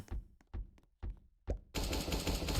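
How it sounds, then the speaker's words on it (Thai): Roblox game gunfire in The Resistance Tycoon: several sharp, punchy shots spaced in bursts, then a dense continuous rattle of rapid fire, loud and close. "เออแต่ตอนนี้มันยิงแล้ว ได้ยินเสียงปืน"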